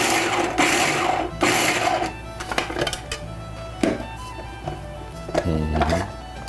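Chopped nuts pulsed in a kitchen appliance for quick bread: a few short bursts of motor whir separated by pauses, close and fairly loud, with some clunks between pulses.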